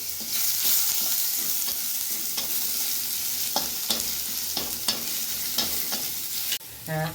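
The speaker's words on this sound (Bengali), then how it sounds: "সামান্য শাহজিরা দেওয়ার পরেই দিয়ে দেবো পেঁয়াজ কুচি।" Chopped onions dropped onto shahi jeera in hot oil for a stuffed bitter gourd shahi curry, frying with a steady near sizzle and repeated spatula scrapes and knocks against the pan.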